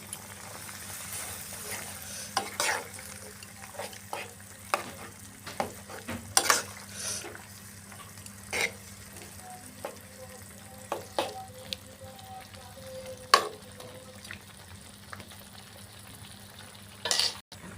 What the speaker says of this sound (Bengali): সুন্দর করে নাড়াচাড়া করে ঢেকে দিব